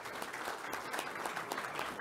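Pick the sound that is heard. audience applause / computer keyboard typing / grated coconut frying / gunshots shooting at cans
audience applause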